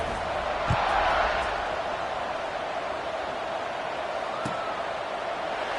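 A college football stadium crowd during a Southern Mississippi game roars steadily after a scoring drive, a broad continuous wash of cheering with a couple of brief sharp thumps.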